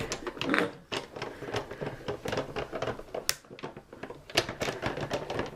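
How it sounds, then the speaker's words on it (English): A Cuttlebug die-cutting machine is hand-cranked to feed paper through, giving a close, busy run of rapid clicking and ratcheting with no talking. "run it through my Cuttlebug"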